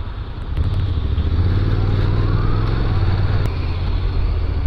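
A Honda NC 750 motorcycle rides along, its engine a steady, loud low drone close by, rising slightly as it pulls away with wind noise over it.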